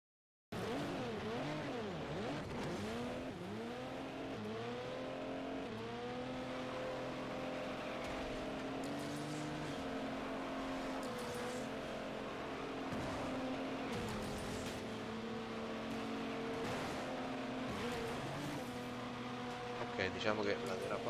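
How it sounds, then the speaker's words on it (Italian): A Mercedes-AMG GT Black Series engine roars steadily through a racing video game drift run, sustained high revs with shifting pitch and tire squeal, over game music, continuous and loud for the whole stretch. "Con la nostra Mercedes AMG GT Black Series."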